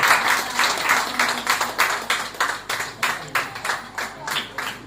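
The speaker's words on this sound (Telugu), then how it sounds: "గట్టిగా చప్పట్లు." A church congregation clapping loudly during a Mass, rhythmic group clapping in bursts with a roughly regular beat, close and lively, with a faint low hum underneath.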